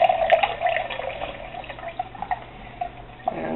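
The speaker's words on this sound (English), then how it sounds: "So I can do it with the water out of my tap." Well water from a household tap runs steadily into a container, a continuous splashing stream heard close up with no voices.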